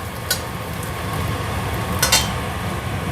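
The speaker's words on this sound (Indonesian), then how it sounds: "Ini aku goreng itu ya, cabai." Chili peppers fry in a pan with a steady, loud sizzle that fills the whole stretch, broken by a few sharp clinks of a utensil against the pan.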